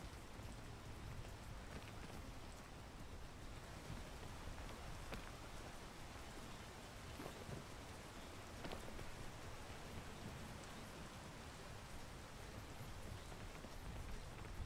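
Steady rain falls without a break over an outdoor walk, a dense, even hiss of drops striking surfaces that holds at the same level throughout.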